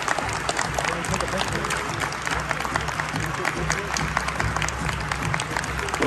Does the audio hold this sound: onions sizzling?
no